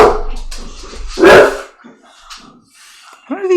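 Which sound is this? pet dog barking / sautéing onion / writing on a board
pet dog barking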